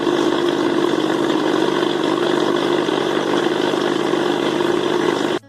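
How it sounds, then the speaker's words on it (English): Mixer grinder blending mutton kofta mixture, a loud, steady motor whir held evenly for several seconds before cutting off abruptly at the end. "Now we will grind it in a mixer grinder for even mixing."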